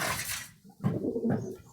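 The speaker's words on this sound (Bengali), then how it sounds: "এখন এখানে তিন চার জাতের কবুতর আছে" Domestic pigeons of several breeds cooing in a loft, a couple of low, throaty coos after a brief pause, fairly close and moderately loud.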